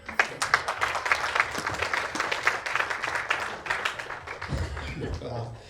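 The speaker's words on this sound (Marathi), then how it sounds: "साऊंडवाल्यांनी टाळ्या वाजायला तर हरकत नाही रे." Audience applause fills a Marathi stage show, steady dense clapping sustained throughout with some louder bursts, easing slightly near the end.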